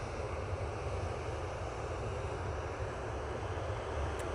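An aircraft on approach to Manchester Airport makes a faint, distant, steady roar, alone and without voices.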